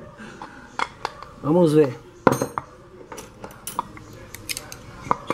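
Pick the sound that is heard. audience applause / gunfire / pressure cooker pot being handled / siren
pressure cooker pot being handled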